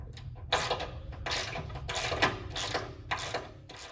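A ratchet with a 9/16 socket backs a safety bolt out of the base of an in-ground basketball hoop, a string of close, rapid clicking bursts in uneven rhythm.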